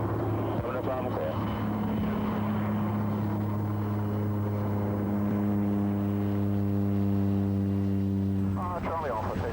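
Fixed-wing aircraft engine droning steadily at close range with strong tonal propeller harmonics, as during takeoff, while radio and cockpit voices talk over it.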